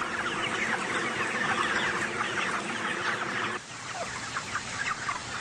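A dense flock of chickens in a large farm poultry house clucks and chatters continuously, a loud, busy wash of overlapping calls that dips slightly partway through.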